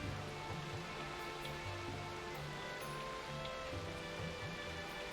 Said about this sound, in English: Oh, and now it's starting to rain, of course.